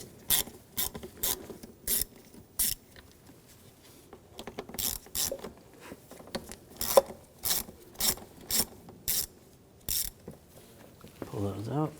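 A ratchet with a T25 socket backs screws out of a 2007–2013 BMW X5 3.0L straight-six during valve cover work, giving a close series of sharp, evenly spaced clicks in short bursts, with faint speech near the end.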